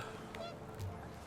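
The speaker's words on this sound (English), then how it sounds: "The wind picked up, and panicked geese appeared and quickly went." Panicked geese honk in the video game What Remains of Edith Finch as the wind picks up, giving a few short, scattered calls over a steady windy rush, moderately close and fairly faint.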